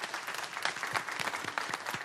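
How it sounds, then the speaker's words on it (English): An audience at a city council meeting gives one more round of applause, steady moderate clapping from a roomful of people, slightly distant and continuous throughout. "let's give them one more round of applause."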